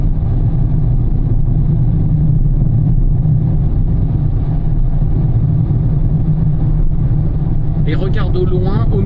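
A car accelerates on a French driving lesson, its loud, steady engine drone and road rumble filling the whole stretch, with a voice briefly heard near the end.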